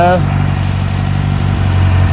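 A classic Ford Escort Mk2 engine, started after decades as a barn find, idles loudly nearby with a steady low rumble and faint rhythmic pulsing; a brief higher tone sounds at the start.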